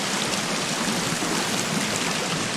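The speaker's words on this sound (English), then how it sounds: "Very loud waterfall." A loud waterfall beside a lake in the video game Sons of the Forest, a steady dense rush of splashing water, heard alone without talking.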